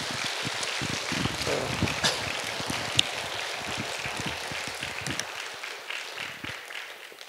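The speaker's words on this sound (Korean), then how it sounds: "우리 하나님께 영광의 박수." A church congregation at a Korean afternoon worship service claps in praise, a moderate, fairly distant patter of many hands that thins out toward the end.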